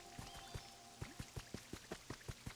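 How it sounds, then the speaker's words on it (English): Rain falls in the Pokémon Pokopia video game as a soft, rhythmic series of distinct droplet plops over a faint hiss, quiet and evenly spaced with no talking. "So it's raining right now"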